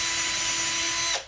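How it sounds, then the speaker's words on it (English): An electric drill with a drill bit whines steadily into a wood stud during basement framing work, one continuous close, loud run that winds down and stops near the end. "Here's my electric drill with a drill bit."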